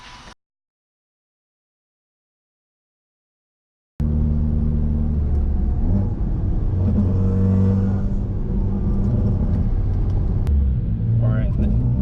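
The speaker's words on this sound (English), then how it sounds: "See how it just like completely cut power." A 2017 Ford Focus RS starts after a stretch of silence with a loud, steady engine drone from inside the car, the note wavering as power briefly cuts out; someone talks over it.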